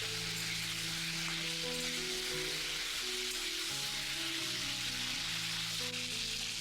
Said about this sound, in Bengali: ফুলকপি একটু লাল সস না ধরা পর্যন্ত এটাকে ভেজে দেবো।